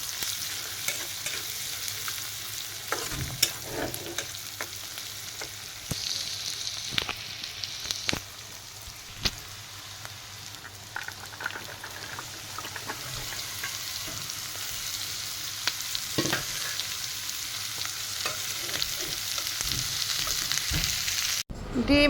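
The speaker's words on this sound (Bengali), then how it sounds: "এদিকে আবার কুমড়া ভাজি করবো" Pumpkin stir-frying in a pan for a home-cooked bhaji, a steady close sizzle with scattered scraping clicks of a spatula running throughout and no talking.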